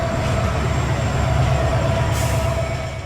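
Tista Express, a Bangladesh Railway meter gauge intercity train, rumbles steadily nearby with a constant low roar, a thin high whine and a faint rhythmic wheel beat, with no talk over it.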